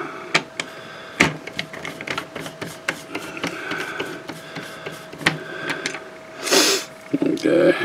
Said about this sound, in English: You got 4 screws to hold them down. And just pull the screws out like so.